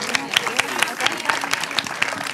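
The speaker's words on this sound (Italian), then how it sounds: "Applausi." Applause from a crowd at a sports portrait awards ceremony, a steady patter of many hands clapping with voices mixed in underneath.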